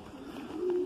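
A racing pigeon coos softly during a 570 km competition flight return, a low steady purring murmur rising slightly near the end, close by and without talk.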